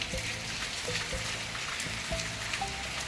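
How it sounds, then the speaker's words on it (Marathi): Steady rain patters softly on a surface, with scattered drips standing out now and then against the continuous wash. "पाऊस कंटिन्यू चालू आहे कंटिन्यू नॉन स्टॉप"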